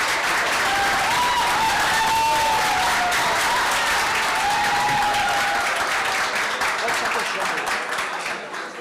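Sustained, dense applause from a large audience at a public security forum, loud and steady throughout, with a voice speaking over the clapping.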